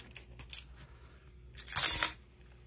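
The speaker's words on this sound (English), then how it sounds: "House and office keys." A bunch of house and office keys jangles, with a few light metallic clinks followed by a louder, sustained rattling shake, close up with no talking.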